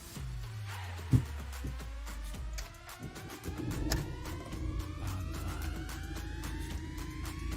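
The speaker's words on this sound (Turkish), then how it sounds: "Aracımıza çalıştıralım ve net bir şekilde görelim." A 2019 Fiat Egea Euro 6 car engine cranks and catches, then settles into a steady idle with a rising whine, heard close up with no talking.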